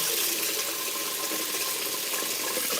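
Rice is rinsed in water for brown stew chicken, a steady, fairly loud splashing and running-water wash that continues throughout with no talking.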